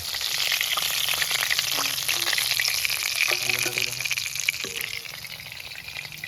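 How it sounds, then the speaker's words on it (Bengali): Sarputi fish fry in a pan with a constant, bright sizzle close by, steady in level, with a few faint clinks and watery pops scattered through before it eases slightly at the end. "এইভাবে আমি সব মাছ কটা ভেজে নেব"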